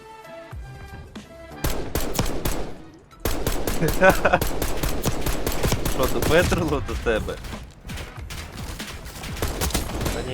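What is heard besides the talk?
gunfire in a video game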